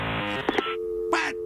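Dial-up internet modem connection sequence: a steady harmonic handshake tone, a couple of sharp clicks, then a brief burst of bright noisy screech, all fairly loud with no voices.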